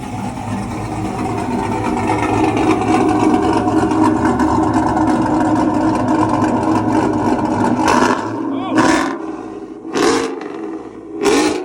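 A loud, lopey cammed 2024 GMC pickup engine idling with a choppy exhaust rumble, then a few sharp throttle blips near the end.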